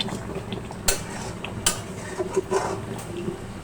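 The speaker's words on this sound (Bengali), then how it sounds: "একটু নেড়ে দিব যাতে নিচে লেগে না যায়" A utensil stirs mutton liver curry in a pot, giving a few scattered metallic clinks and scrapes close by over a quiet background.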